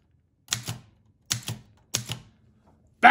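Antique typewriter striking paper, with three clusters of sharp double key strikes spaced evenly apart, then a louder clack at the very end, close and clear with no talking.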